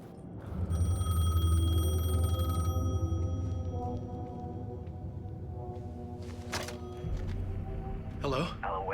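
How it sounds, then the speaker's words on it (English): A payphone rings with a sustained, shrill electronic bell tone in the video game Alan Wake 2, loud and continuous at first, then fading under ambient game sound with a few sharp clicks later. "The payphone was ringing."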